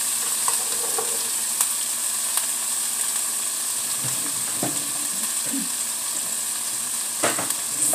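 Mushrooms and sausage for a scramble fry in butter in a pan, giving a steady close sizzle throughout with occasional stirring clatters and scrapes.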